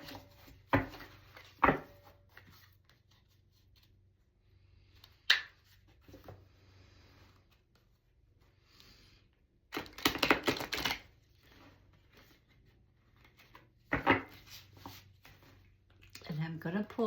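Several short bursts of a card deck being riffled and shuffled close by, with quiet gaps between the bursts.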